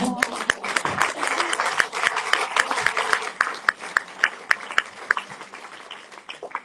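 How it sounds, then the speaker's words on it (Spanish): Audience applause at a Spanish-language anniversary presentation, a burst of crowd clapping that thins into scattered, distinct individual claps toward the end. "Sí, aplaudan"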